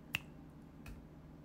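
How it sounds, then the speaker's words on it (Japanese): Two crisp finger snaps, close and quiet, come about three quarters of a second apart over a faint background during an idol's late-night live stream. "指パッチンはできます。"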